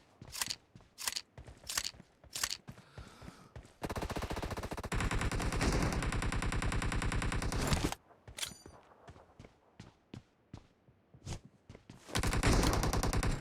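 Repeated loud shotgun blasts from BGMI gameplay in a warehouse team deathmatch, sharp single shots spaced out, with two long sustained bursts of rapid continuous fire in the middle and at the end.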